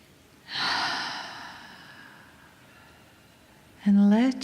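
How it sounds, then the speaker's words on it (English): One long, deep inhale drawn slowly through the nose and mouth in a calm guided-breathing session, fairly close and soft, followed by a short pause before a voice begins speaking at the end. "take a breath with me. Big inhale. And another inhale."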